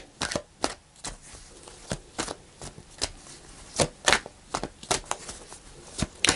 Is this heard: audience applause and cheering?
no